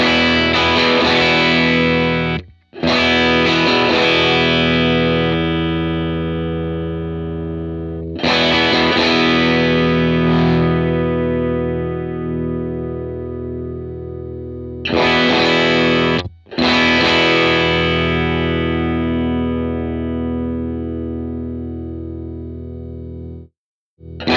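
Electric guitar played through a Matchless C-30 amp or a Line 6 Helix model of it, with sustained distorted chords ringing out in long phrases separated by brief pauses, loud and alone without talk.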